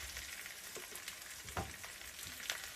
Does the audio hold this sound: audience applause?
no